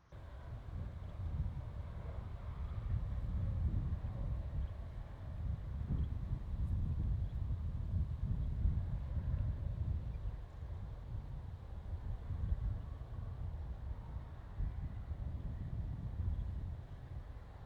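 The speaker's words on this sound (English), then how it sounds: "the wind is picking up." Wind blowing across a reed bed in the UK makes a steady, low, rumbling roar with gusty buffeting on the microphone, continuous throughout with no voices.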